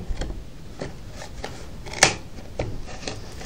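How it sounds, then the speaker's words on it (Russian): Garden shears snipping wooden toothpicks pushed into a base, a series of sharp crisp clicks and snaps at irregular intervals, one louder cut in the middle, close and alone. "Вот такими садовыми ножницами обрезаем."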